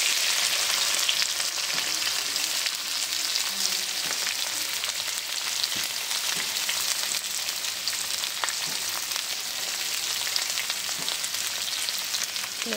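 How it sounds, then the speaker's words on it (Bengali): Onion frying in a pan with bay leaf, dried chilli and whole spices gives a loud, constant hiss and crackle close by, with faint stirring scrapes and no talking. "এটা ভালো করে ফ্রাই করতে হবে, ভালো করে ফ্রাই করে নিই"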